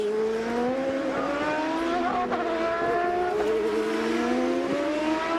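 A Champ Car World Series race car on track in the closing corners, its engine loud and continuous with rising, shifting harmonic whine and gear changes, close and alone with no talk.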